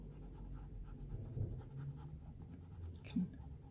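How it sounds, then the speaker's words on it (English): Pencil scribbling back and forth over a drawn design to transfer it onto lino, a steady close scratching with a couple of firmer strokes, no talking. "I quite like using the pencil that I just drew with to scribble along"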